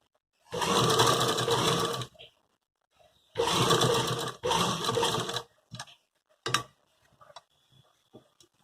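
A sewing machine stitches a suit in two close, loud runs of rapid whirring, followed by scattered short clicks and taps as the fabric is handled.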